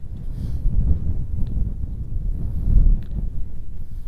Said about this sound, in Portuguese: porque tá ventando bastante aqui